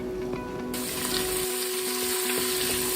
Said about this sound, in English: Add onions and fry